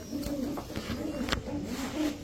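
Pigeons coo softly at a pigeon market, low rhythmic murmuring calls repeating under a busy background, with occasional sharper sounds and faint voices nearby.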